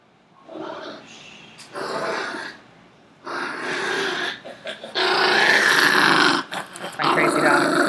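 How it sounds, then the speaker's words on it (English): Pet dog indoors, hungry, whining and growling in several bursts of varying length, fairly close and moderately loud, with brief pauses between. "My dog is whining."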